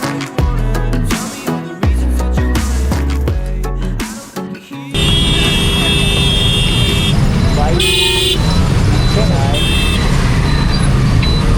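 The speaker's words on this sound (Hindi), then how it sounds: "ये पुल से हो गया है ट्रैफिक जाम।" A traffic jam on a bridge during the Mahakumbh 2025 crowds, with a dense roar of engines and repeated car horns honking nearby; earlier there is loud music with a beat, and a voice talks over it.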